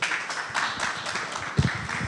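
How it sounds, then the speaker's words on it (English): An audience at an investment forum claps for a speaker named Tracy, producing a steady patter of applause that holds through the moment with no speech over it. "Let's clap for Tracy again"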